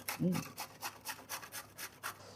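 Cauliflower rubbed by hand over a kitchen grater in steady, even strokes, about eight soft rasping passes in quick rhythm, close and fairly quiet, with a brief murmur of voice near the start.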